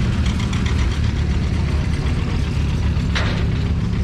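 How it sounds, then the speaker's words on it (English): Garden tractor engines chug steadily at an outdoor steam and engine show as the tractors are unloaded, a low continuous mechanical rumble with a brief hiss partway through. "This guy's unloading some. They're pulling garden tractors today, so everybody's bringing their garden tractors in."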